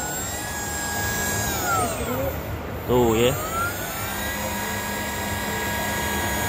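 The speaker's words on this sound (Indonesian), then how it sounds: "Kayak gini ya suaranya Yamaha E01." Electric whine from a Yamaha E01 electric scooter motor, a thin steady high tone with rising and falling harmonic sweeps over a constant broadband hum, close by, with a brief spoken remark in the middle.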